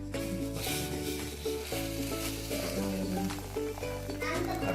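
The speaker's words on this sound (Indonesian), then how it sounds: "Oh, mendidih banget." Coffee boils and bubbles on a stove for durian coffee, a steady hissing sizzle heard up close while people talk over it.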